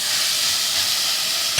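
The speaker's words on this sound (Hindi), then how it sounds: "इसको हल्का सा फ्राई करके फिर हम ये अपना कीमा डाल देंगे।" Ginger garlic paste sizzles and hisses steadily in hot oil, with minced meat about to go in for fried qeema samosa filling; a close, continuous frying noise with no talk.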